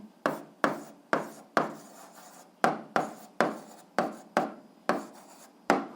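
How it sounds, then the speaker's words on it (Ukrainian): Pen or pencil writing out an algebra answer on paper, a series of about a dozen short, crisp scratching strokes in an irregular rhythm, close and fairly quiet, with no talking. "записуємо відповідь, пишемо відповідь"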